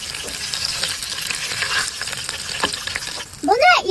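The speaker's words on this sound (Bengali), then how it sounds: "ইলিশ মাছ ভাজা শেষ" Hilsa fish frying in hot oil, a steady close sizzle with scattered crackles and pops, then a brief louder scrape near the end as the pieces are stirred or lifted.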